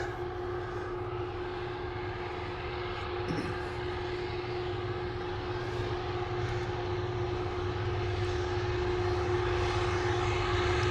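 A steady, droning diesel locomotive engine rumble from a Canadian National freight train holds throughout with a constant hum, loud and continuous without breaks.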